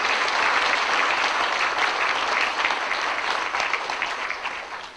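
An audience at a scholarship award ceremony gives sustained applause: dense, even clapping from a sizable crowd that fades slightly at the end.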